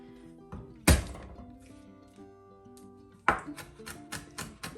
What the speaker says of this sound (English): just roughly chop it